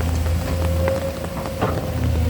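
Rain falls steadily on an excavator work site, a dense, loud hiss of drops on surfaces with a low engine-like drone underneath, continuous throughout and with no talk.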